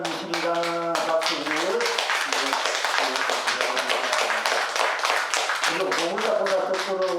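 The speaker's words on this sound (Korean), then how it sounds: "박수." Audience clapping together at a Korean Buddhist dharma talk during a Wednesday service, loud, dense and continuous applause with a voice speaking over the start and end.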